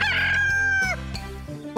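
A cartoon rooster crows once, a loud, close, drawn-out cock-a-doodle-doo with a rising then falling tone, followed by a few shorter clucking calls.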